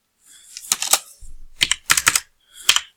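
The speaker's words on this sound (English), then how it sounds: "I'm actually going to just type in the value here" Keys tapped on a computer keyboard while a numeric value is entered into a field, in several short bursts of quick, close clicks with brief pauses between them.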